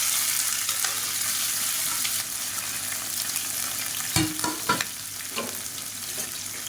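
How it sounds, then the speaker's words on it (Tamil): Two large, lengthwise-sliced onions hit hot oil in a pressure cooker for chicken kulambu, giving a steady hissing sizzle with a few sharp stirring knocks and scrapes midway. "இப்போ எண்ணெய் நல்லா சூடாயிடுச்சு ஒரு ரெண்டு பெரிய வெங்காயம் வந்து நீளமாக கட் பண்ணி வச்சுருக்கேன் அதை சேர்த்துக்கலாம்"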